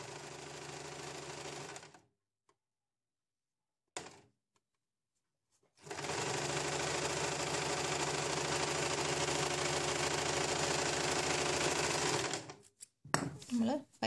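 A sewing machine stitches a 1-inch piping strip onto a sleeve for double piping: a two-second run, a brief burst, then a long steady whirring run of about seven seconds, ending in a few handling clatters.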